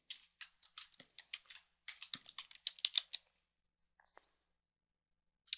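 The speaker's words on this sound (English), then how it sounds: "And I'll go ahead and type" Fingers type on a computer keyboard while setting wedding title text in video-editing software, producing a quick run of crisp, close key clicks in bursts, then a pause and a few scattered taps, quiet and with no talking.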